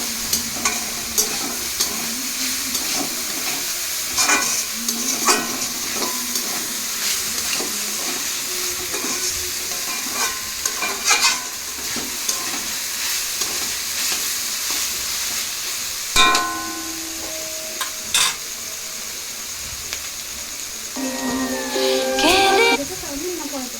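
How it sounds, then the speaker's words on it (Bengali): Tomato ketchup is stirred into chowmein in a pan over steady frying sizzle, with repeated scraping and spatula clinks throughout and a few louder metallic taps near the end. Faint voices appear now and then. "টমেটো কেচাপ দিয়ে দেবো 2 চামচ মতো, দিয়ে এটাকে ভালো করে নাড়িয়ে চাড়িয়ে"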